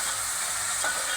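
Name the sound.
tomatoes added to frying onions for mutton curry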